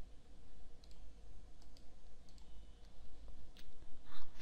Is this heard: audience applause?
no